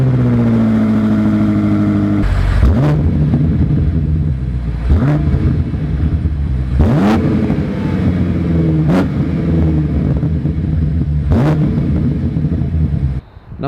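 A 2020 BMW M8 Competition's V8 engine blips and revs hard about five times in a row, each sharp rise and fall heard close and loud over a steady idle, with no talking.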